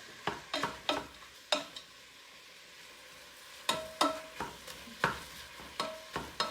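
Ground beef and onion cooking in a pan, quiet background sizzle broken by repeated spatula scrapes and taps against the pan in irregular bursts, close up with a short lull in the middle.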